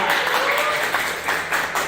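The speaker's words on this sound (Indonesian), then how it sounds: "tepuk tangan untuk Mas Rizky yang luar biasa" Classroom applause for a student named Mas Rizky in a 10th-grade religion lesson, a continuous patter of many hands clapping, fairly close and steady for about two seconds, with faint voices underneath.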